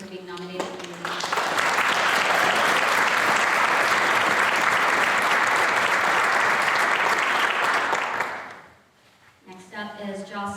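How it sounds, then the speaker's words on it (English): Sustained, dense audience applause at a youth awards ceremony for a student nominated for leadership, swelling quickly and holding loud and even before fading out, with a voice speaking briefly at the start and end. "Please join me in applauding Rebecca Johnson for being nominated for the leadership."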